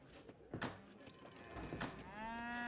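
Cows mooing in the strategy video game Age of Empires III, two short lowing calls followed by a longer, drawn-out moo, fairly quiet, with no talk over them.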